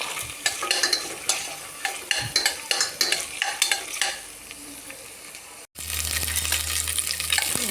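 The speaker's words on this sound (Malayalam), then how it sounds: "ഇതൊന്ന് ഇളക്കി കൊടുക്കാം" A spoon scrapes rhythmically around a pan in quick repeated strokes while making kalathappam, then a steady sizzle of frying takes over after a brief break.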